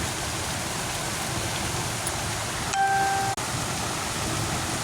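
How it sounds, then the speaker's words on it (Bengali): Heavy torrential rain pouring outside, a dense unbroken roar of rainfall on surfaces, loud and steady throughout, with a brief faint tone and a sharp click partway through and no one speaking. "পুরো মুষলধারে বৃষ্টি পড়ছে,"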